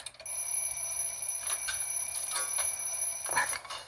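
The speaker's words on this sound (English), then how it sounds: "Stop going off, alarm clock." An alarm clock rings in the video game Little Inferno, a steady electronic tone with repeated bell-like bursts that carries on for about four seconds without any talking.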